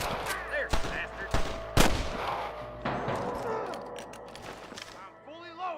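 Gunfire in a Red Dead Redemption shootout at Pike Station: several loud, sharp shots crack out in irregular bursts, some close and some further off, with shouting voices and game effects mixed in.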